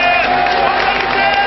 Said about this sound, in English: there's a cheer for Sunday Elise